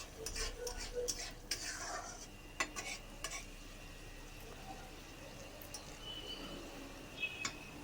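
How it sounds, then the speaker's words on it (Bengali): Bitter gourd curry being stirred and fried in mustard-paste water, with a soft simmering hiss under occasional scrapes and taps of a spoon against the pan, quiet and close, with no talking. "এবার সর্ষের বাটি ধোয়া জলটা দিয়ে আরো বেশ কিছুক্ষণ কষিয়ে নেব"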